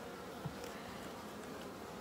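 Honey bees hum steadily at a top bar hive during a midsummer inspection, a soft continuous buzz close by with no talk.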